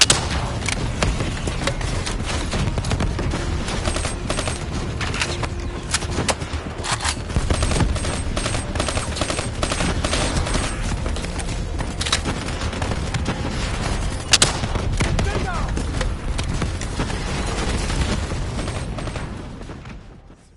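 Heavy sustained weapon fire from Call of Duty: Black Ops III, with rapid automatic bursts, rocket launches and booming impacts running loud and continuous throughout without any talk.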